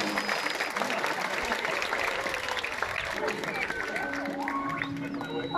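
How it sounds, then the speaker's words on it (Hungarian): Audience applause at a sea lion show, a steady dense wash of clapping with crowd noise and some voices mixed in, lasting throughout at moderate level. "Azt hiszem, ők is megérdemelnek egy hatalmas tapsot."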